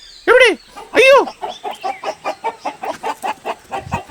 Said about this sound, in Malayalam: എന്താണാവോ കോഴികളൊക്കെ എന്താ ഇങ്ങനെ ഒച്ച വെക്കുന്നത്?